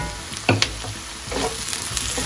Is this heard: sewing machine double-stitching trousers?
no